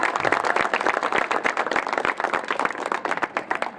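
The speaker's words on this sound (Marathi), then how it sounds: "त्यांच्यासाठी एकदा जोरदार टाळ्या" Loud, steady applause from a crowd honouring a newly appointed district vice-president at a birthday felicitation ceremony, with many hands clapping densely and continuously and no voices over it.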